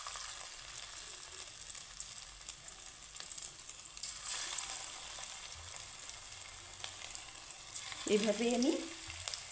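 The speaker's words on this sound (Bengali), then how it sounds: "আমার তেলটা গরম হয়ে গেছে, আমি এখানে রিফাইন্ড অয়েল দিয়েছি। আর এখন আমি এই ছোট ছোট করে পকোড়ার সাইজে" Cabbage pakoras deep fry in hot refined oil with a steady soft sizzle, a brief louder bubbling burst near the end, and someone speaking briefly.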